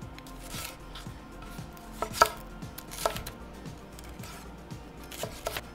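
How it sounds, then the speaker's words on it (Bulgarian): Vegetables chopped finely on a cutting board while preparing a quick bean stew: a steady run of close knife taps with a few louder strikes, no talking. "Нарязвам всички зеленчуци на финни купченца."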